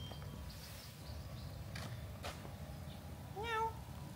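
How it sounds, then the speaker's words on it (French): A large cat meows at an old temple in Chiang Mai, a single drawn-out call near the end that rises over quiet, steady outdoor background noise, with no talk. "Il y a un gros chaton apparemment"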